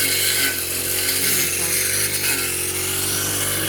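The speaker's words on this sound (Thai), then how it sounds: "แกตัดหญ้านะคะ ตัดหญ้าที่สวนหวายค่ะ" A motorized grass cutter runs steadily while cutting grass in a rattan garden, its engine drone continuous, close and fairly loud throughout.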